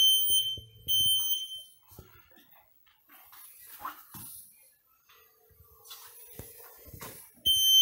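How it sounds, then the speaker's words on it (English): A Merits S730 Roadster mini mobility scooter sounds its reverse warning buzzer as a loud, high electronic beep. It comes in short bursts at the start and end, with quieter motor and handling noises between. "This particular scooter has a buzzer when it goes in the reverse,"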